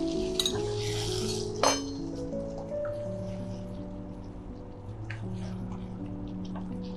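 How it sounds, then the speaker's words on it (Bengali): Medium paneer cubes tip into a pan of cubed tomato, capsicum and ginger paste, then a big spoon stirs them, with light clinks and scrapes over a steady background hum. "সেই পনিরকে আমি এখন ঢালবো। একটা বড় চামচ দিই।"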